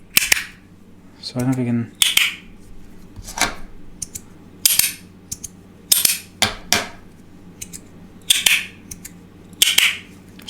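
A brass magnetic fidget slider clicks and snaps in a string of sharp, bright metallic clacks, some in quick pairs, close and fairly loud, with a brief spoken remark partway through.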